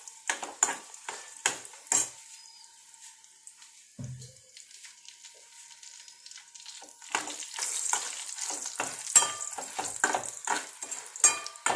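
Dried red chilies fried in oil in a kitchen, with soft sizzling broken by sharp stirring clatters and scrapes; the pan noise fades at mid-clip then returns louder and busier toward the end.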